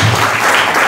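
An audience at a Cretan music gathering claps for the musician, a brief, loud, dense burst of applause.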